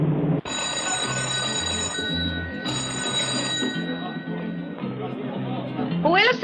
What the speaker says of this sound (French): Seigneur, c'est le téléphone pour vous.